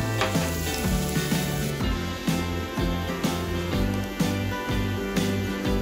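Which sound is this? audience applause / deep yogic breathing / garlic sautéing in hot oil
garlic sautéing in hot oil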